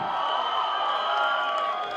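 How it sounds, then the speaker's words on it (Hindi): Crowd at a Delhi fan event for the film Thama cheering and whooping for actor Paresh Rawal, a steady, moderately distant roar of voices that lasts about two seconds. "छत उड़ा दो तालियों से मिस्टर परेश रावल एवरीबॉडी"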